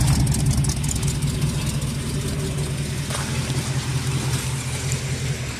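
A car engine runs steadily at low revs as the vehicle begins to pull away, a loud, continuous rumble close by with no voices.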